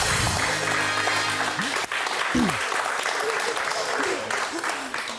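A studio audience on a televised bingo game show applauds in a broad, steady burst, with a few tonal beeps and swooping electronic sounds and a presenter's voice over the clapping.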